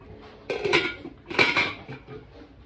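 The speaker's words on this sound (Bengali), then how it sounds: "মাটনটাকে এবার একটু কষে নিতে হবে।" Mutton stir-fried in a pot, heard as two short bursts of metal spatula scraping and clanking against the pot, close and moderately loud, with quiet pauses between and no talk.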